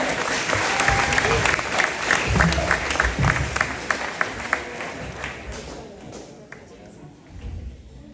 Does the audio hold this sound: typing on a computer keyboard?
no